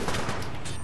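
Rapid gunfire from a one-shot-kill gun in the video game Titanfall 2, a brief, loud burst of dense, overlapping shots with no pauses.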